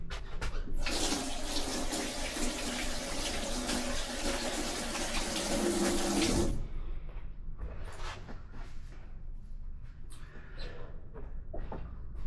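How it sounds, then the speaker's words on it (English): Water from a kitchen sink tap runs loudly and steadily as hands are washed beneath it, then shuts off abruptly, leaving faint handling clatter and small knocks nearby. "I'm gonna wash my hands off quickly."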